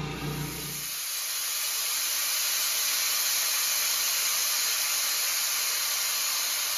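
An air compressor's low rumble cuts off and a steady, loud high-pitched hiss of air bleeding off at maximum pressure continues on its own without stopping.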